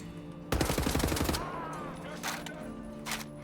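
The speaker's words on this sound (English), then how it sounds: "Who's shooting at me?" A close, loud fusillade of rapid automatic gunfire in the first-person shooter Wolfenstein: The New Order cuts in sharply for about a second, followed by a few fainter isolated shots in the background.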